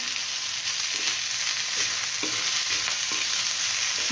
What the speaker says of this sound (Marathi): पण परतून घेते कोथिंबीर